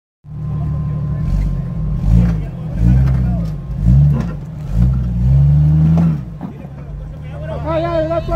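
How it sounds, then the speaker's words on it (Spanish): A car engine revs hard again and again, pitch swooping up and falling back in repeated loud pulls as it accelerates uphill at a Tuxonaso gathering, close and dominant, with people talking and calling out over it. "Ahora acelera para arriba, mira, chavo."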